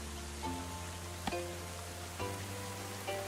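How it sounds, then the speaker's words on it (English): Rain patters steadily in the medieval colony-building video game Going Medieval, a soft even hiss with a few faint clicks and tones from the game layered over it. "I wonder in the rain if it's gonna pool water."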